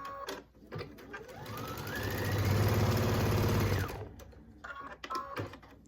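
A sewing machine runs in one steady burst, stitching fabric binding strips together at an angle for a quilt, ramping up, humming for about two seconds and then stopping, with lighter handling noises before and after.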